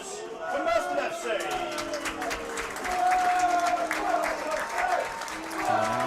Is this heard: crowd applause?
yes